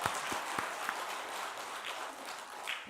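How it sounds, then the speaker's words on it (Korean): A Christmas worship congregation at a church in Gyeongju claps in praise, faint and distant, with a few sharper individual claps standing out over a soft wash of applause. "우리 하나님께 영광의 박수 올려드립시다"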